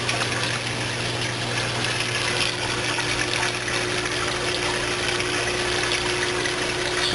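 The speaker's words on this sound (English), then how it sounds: "Back of the 155-gallon tank, I use a hang-on back overflows, 700-gallon." Water runs steadily through a 700-gallon hang-on-back overflow on a 155-gallon aquarium, a constant close trickling rush with a low pump hum and no talking.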